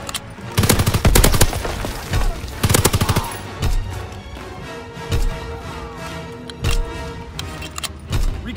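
Anti-aircraft battery in Call of Duty WW2 multiplayer, firing loud, rapid bursts of cannon fire in repeated clusters over several seconds, with shorter single bursts spaced out toward the end.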